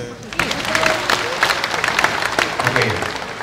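Married couples in a live concert audience in Bohol applaud on cue, a dense burst of hand clapping lasting a few seconds, loud and close, with scattered voices mixed in.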